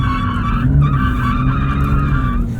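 A 2023 Porsche 911 Turbo S spins its tires while drifting, a continuous high-pitched tire squeal over the deep engine drone, loud and close throughout.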